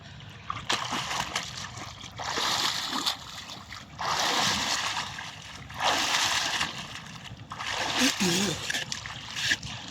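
A person repeatedly dunking under water, heard as bursts of splashing and sloshing that come in roughly regular waves every couple of seconds, close and moderately loud, with voices talking between the dunks.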